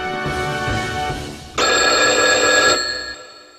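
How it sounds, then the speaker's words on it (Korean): An old telephone bell rings loud and close, a steady tonal trill that grows brighter partway through, then cuts off, with no voices. "이날 남상락동지는 정말 뜻밖에도 위대한 장군님께서 걸어주신 전화를 받게 되었습니다"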